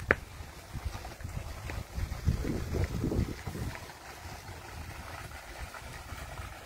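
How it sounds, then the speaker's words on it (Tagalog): Gusty wind buffets the microphone in low rumbling bursts, swelling in the middle and easing off, with faint lapping water underneath. "Oh, ang hangin po, hangin."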